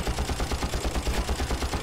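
Rapid automatic gunfire in the video game Far Cry rattles in a continuous stream of evenly spaced shots, fairly muted and with no talking.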